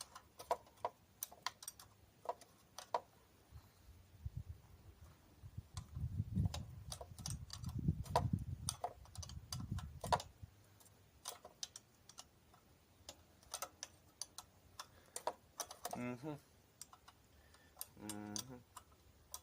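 Hand tools click and tick against metal as a carburetor is pulled off a 1968 Ford F250, scattered light taps and ratchet-like clatter, quiet and close, with a low rumble in the middle and no talking.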